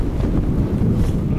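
Strong wind buffets the microphone outdoors by a windy shore, a loud, continuous low roar with no other sounds.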